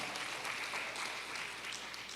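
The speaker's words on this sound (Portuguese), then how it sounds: "Você pode aplaudir a Ele, pode glorificar o nome dEle, aleluia!" A church congregation claps steadily through a live worship service, a soft, continuous patter of many hands heard at a distance without voices.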